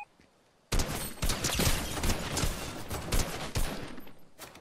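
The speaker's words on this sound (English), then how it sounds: "I'm getting shot at." Gunfire in the battle-royale game Fortnite: after a near-silent second, a loud barrage of rapid shots bursts in and continues with uneven sharp cracks and short bursts, close and dominant.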